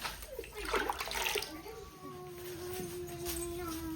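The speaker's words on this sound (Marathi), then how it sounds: "अजून एक तांब्या घालते झाडाला पाणी" Water pours steadily from a pot onto a plant in a home, a close, splashing gush that fades into a softer trickle. Voices and a faint tone run faintly underneath.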